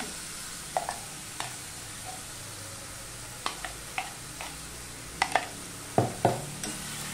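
Lentil paste frying in a wok while being stirred for papaya dhoka, with a low steady sizzle and scattered sharp scraping clicks of the spatula against the metal, moderately close and without talk.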